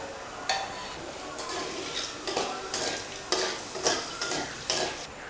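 Whole cumin, dried red chillies and whole garam masala fry in mustard oil with a constant hiss. Repeated scraping bursts of stirring sound close by.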